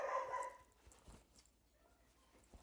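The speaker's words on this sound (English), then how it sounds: "Sorry about the dog if you can hear him." A dog indoors gives one quick bark at the start, then only quiet scuffs and faint room sounds follow, with no speech.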